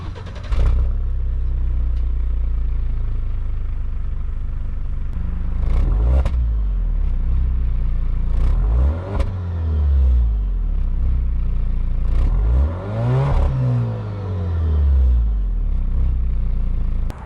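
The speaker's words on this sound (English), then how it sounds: "let's just listen to the warm start and then some revs." A 2020 Alfa Romeo Stelvio TI starts warm and idles, then its engine is blipped through several sharp revs that rise and fall, loud and close, with no talking.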